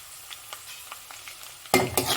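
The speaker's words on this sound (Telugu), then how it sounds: "ఇప్పుడు మంచిగా వాష్ చేసి పెట్టుకున్న కరివేపాకు అయితే వేస్తున్నాను" Curry leaves dropped into hot oil for semiya upma set off a sudden loud sizzle and crackle near the end, after a quiet stretch of faint stirring taps.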